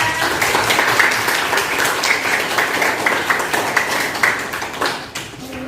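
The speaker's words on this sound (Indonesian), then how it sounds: "Tepuk tangan semuanya untuk dia." A classroom full of people in Indonesia claps steadily in sustained applause, loud and dense, tapering slightly at the end.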